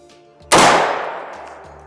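A single rifle shot fired on a shooting range rings out loud and close, its sharp crack followed by a long echoing decay.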